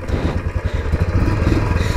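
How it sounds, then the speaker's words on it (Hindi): A Royal Enfield Bullet 350 single-cylinder motorcycle, kick-started and settling into a steady, loud close-up idle with an even thumping pulse. "एंड किक से स्टार्ट करने का मजा ही कुछ और है।"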